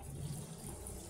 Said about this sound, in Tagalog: Dagdagan ko siya ng tubig guys kasi nga kumunti na yung tubig.